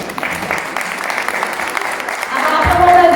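Wedding guests at a Pakistani wedding applaud after a recited sehra poem, a loud sustained clapping from the audience that swells toward the end.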